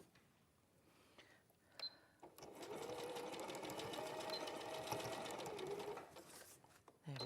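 A domestic sewing machine stitches down the end of a dress panel with a steady, fast mechanical whir lasting several seconds, preceded by a few light clicks and quiet handling sounds.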